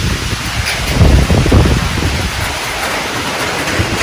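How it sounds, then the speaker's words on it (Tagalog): Steady storm rain in Glan, Sarangani Province hisses continuously with gusty rushing swells, moderately loud and with no voices. "magpasilong kasi umulan na rin."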